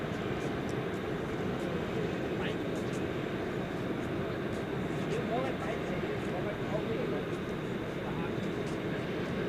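A Boeing 747-400 airliner at DFW Airport at night gives off a steady, distant jet roar, a broad even rumble that holds constant throughout with faint higher hiss above it.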